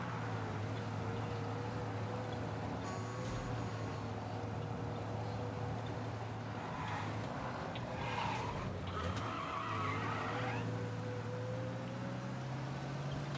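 A police car in the Mafia video game drives steadily with a constant engine drone, broken by tire skids and squeals around the middle of the stretch.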